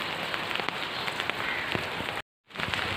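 Steady rain patters densely on a surface, a continuous close hiss with scattered drops, cutting out briefly near the end before resuming.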